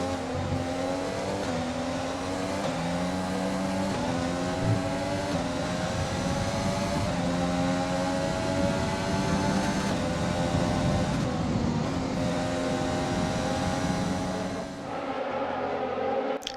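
F1 race car engines scream around Silverstone in the video game F1 2020, a loud, continuous high-pitched whine rising and falling through gear changes, with several cars close together and no voices.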